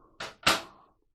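Glass overhead cabinet door in a Jayco White Hawk travel trailer, opening with two quick close clicks, the second louder and trailing off briefly.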